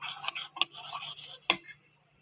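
A spoon stirring carrot paste into dosa batter in a bowl, a few short close scraping and clinking strokes that fade out.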